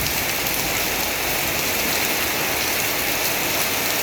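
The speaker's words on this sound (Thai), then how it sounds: "อันนี้เป็นน้ำตกลงมาจากหลังคาพี่น้อง" Rainwater pours off a roof during a windy thunderstorm, a loud, dense, steady rush of falling water close by with no break.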